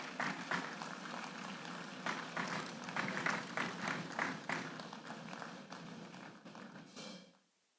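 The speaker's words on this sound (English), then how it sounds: "put your hands together and welcome Mr. Gerald Ongume from Naivasha Maximum Prison" Audience at a Correctional Service Week gala dinner claps to welcome a speaker, steady moderately distant applause with scattered individual claps that fades and stops abruptly near the end.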